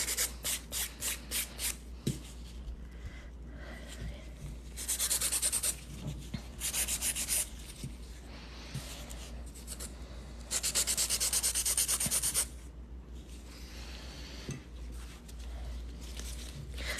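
Hard gel stiletto nails being filed give quick rhythmic rasping strokes at first, then longer steady bursts of close, soft sanding with pauses between.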